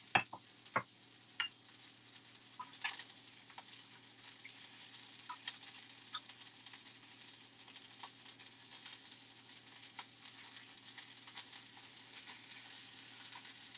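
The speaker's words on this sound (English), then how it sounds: "The egg's cooking nicely." An egg frying in a pan for fancy burgers, a steady faint sizzle and crackle with a few sharper pops near the start, no voices.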